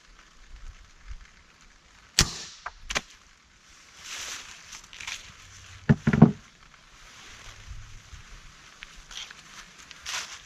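A pistol crossbow shoots a bolt into a simulated skull, giving a few sharp, loud snaps and thuds spread across several seconds, with quieter rustling between them.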